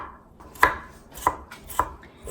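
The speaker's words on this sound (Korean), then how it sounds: "감자는 곱게 그 다져 주셔야 돼요." A knife chops potato and carrot on a board in four sharp, well-spaced strikes, close and crisp over a quiet background.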